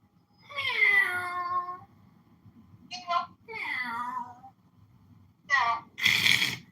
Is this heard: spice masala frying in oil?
no